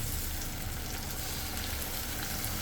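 Tomato, ginger, garlic and chili paste frying with browned onions in a pan for a Bengali chicken dish, giving a steady, dense sizzle that stays even throughout with no talking.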